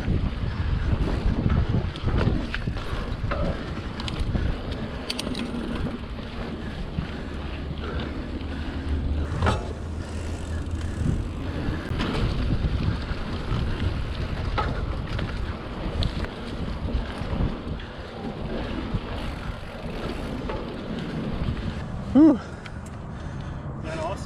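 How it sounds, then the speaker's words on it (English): Steady wind rushes and buffets the microphone on a flat mountain bike trail at the Sugarland trails in Houston, ridden on a 2020 Marin Alpine Trail bike, with bursts of gusting noise throughout as riders talk over it. "It's windy, flat and windy."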